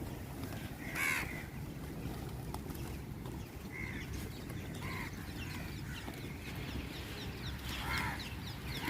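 Scattered crow caws ring out a few seconds apart over constant outdoor ambience near Miramar Beach, Panaji, some sharp and near, others fainter.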